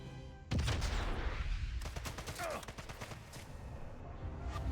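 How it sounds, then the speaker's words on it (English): Gunfire in Sniper Elite: Resistance, a loud shot followed by a rapid run of bursts and impacts with a lingering rumble, mixed with game noise and some talk. "What about if I fire at that?"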